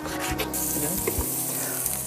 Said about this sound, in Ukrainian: До сала додаємо м'ясо і все це разом ми смажимо